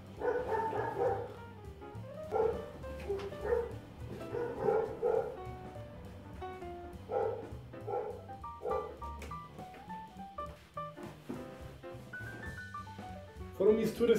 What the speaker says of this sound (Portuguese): Esse cachorro não vai parar nunca